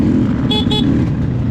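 A dirt motorcycle's horn gives two quick short toots over the loud, steady engine noise during an off-road enduro special test at an Australian off-road championship round.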